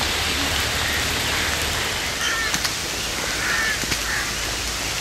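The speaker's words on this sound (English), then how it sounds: "it's raining really hard." Heavy rain pours down steadily in Agra, a dense continuous hiss close around, with faint birds calling through it.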